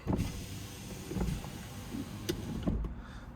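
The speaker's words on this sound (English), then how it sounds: "Put the windows down a little bit so you can hear the exhaust start up" Power windows sliding down on a 2019 Mercedes-AMG GLC 43 Coupe, a low motor whir with a few clicks and thumps, heard close inside the cabin with no talking.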